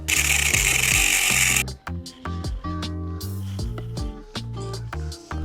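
A handheld power tool notches a part on a motorized bicycle fitted with a two-stroke engine kit, whirring in short bursts, starting and stopping with brief revving pulses close by.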